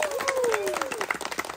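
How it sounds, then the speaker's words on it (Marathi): Audience clapping at a mehndi wedding ceremony, a short burst of applause from a crowd with bright overlapping claps, while a voice speaks over it. "छान टाळ्या वाजवल्यात"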